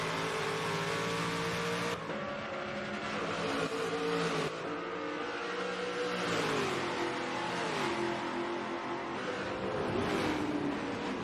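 A race car engine in a racing video game revs loud and steady, its pitch rising and dipping through gear changes as it pushes on without a break.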